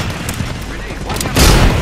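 A grenade explodes in the video game Apex Legends, a loud, close boom bursting out near the end after a stretch of busy combat noise and game voice lines.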